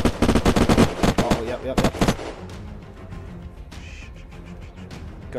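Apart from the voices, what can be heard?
gunfire in the video game Unturned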